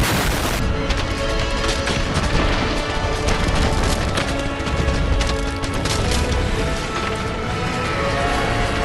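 Tower blown apart by a thermobaric bomb in a tank video game: a loud, sustained crashing roar of splintering debris and booming rubble that continues for many seconds with little letup.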